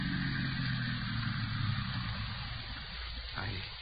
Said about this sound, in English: there's a car out there